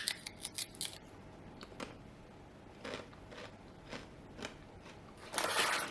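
Crisp bites and crackles of a thin, crunchy rice-cake-like snack, a few quick crunches at first, then scattered ones and a louder burst at the end, close and fairly quiet.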